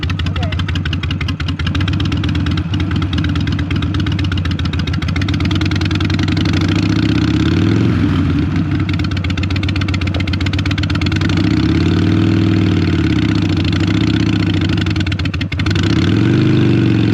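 A Harley-Davidson Sportster motorcycle engine runs loud and steady during burnout practice, idling with small rises in revs and no pause from start to end.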